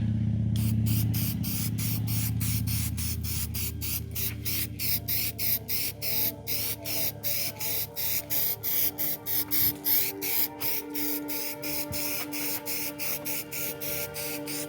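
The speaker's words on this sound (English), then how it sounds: "Just gonna give this thing a quick coat of paint so it doesn't rust." Steady hiss of a spray paint can, continuous at first, then broken into rapid short bursts as the nozzle is pressed repeatedly.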